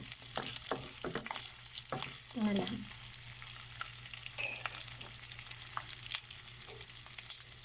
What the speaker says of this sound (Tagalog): Pero pipritulin ko pa rin.